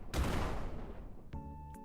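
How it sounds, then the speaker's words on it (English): A loud explosion bursts out in an FPS roguelike video game, its broad blast decaying for about a second, followed by a second sharp hit with a ringing tonal tail. "the explosions are loud as heck."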